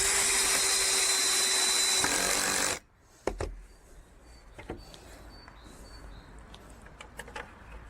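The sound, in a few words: power screwdriver driving provided screws into pre-drilled holes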